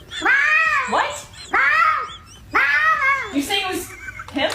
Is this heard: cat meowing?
yes